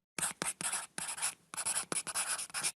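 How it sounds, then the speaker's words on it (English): A pen scratching across paper while writing a letter: steady, close strokes in quick rhythmic runs with brief pauses between them. "And the Rebbe took a piece of paper and wrote a letter."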